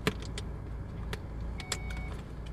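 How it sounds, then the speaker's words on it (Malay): Cars pass along a roadside as a steady low traffic rumble, with a few sharp clicks and brief higher noises over it and no voices. "korang akan nampak kereta lalu lalang lah"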